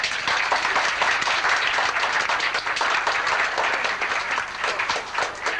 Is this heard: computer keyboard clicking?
no